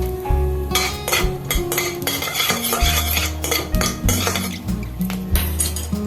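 A metal spatula clinks and scrapes repeatedly against a kadai as whole garam masala is stirred in hot oil for ghugni, in close, irregular bursts with no talking.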